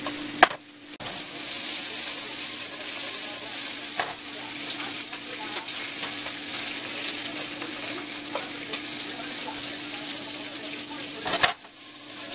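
Enchiladas, four pieces, fry in a pan toward golden with a steady, even sizzle and a few sharp clicks or taps from a utensil, no talking.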